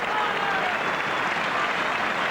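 Football crowd applauding at an Ireland versus Brazil friendly, a loud, dense, sustained clapping that fills the stadium at an even level throughout.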